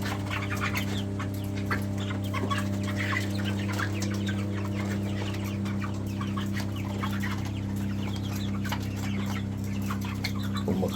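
A room full of chickens on a poultry farm gives steady, dense clucking and chatter from many birds, close and constant throughout, over a low steady hum.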